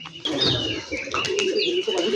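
Rajshahi Giribaz pigeons released for aerial display give close, steady calls with thin high chirps over a low cooing murmur, and a voice speaks briefly in the background.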